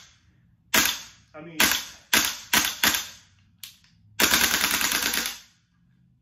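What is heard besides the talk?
GBBR airsoft rifle firing single shots with CO2 in freezing cold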